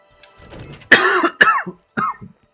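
A man clears his throat harshly and then coughs a few times. The sounds are close and loud, come in short bursts, and are separated by brief silences.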